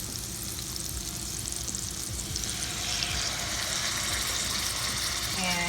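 Steak sizzling loudly in a hot pan, a steady dense frying hiss that swells partway through and continues to the end, with a faint voice briefly underneath.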